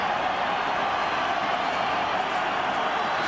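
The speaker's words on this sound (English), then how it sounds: "listen to the crowd here" A sellout football stadium crowd of Colorado State and Colorado fans roars as a steady, dense wall of noise, loud and unbroken throughout.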